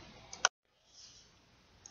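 A computer mouse gives two quick, crisp clicks close by in a quiet room, followed by near silence with a faint hiss.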